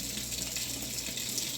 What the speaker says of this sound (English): let it fill with hot water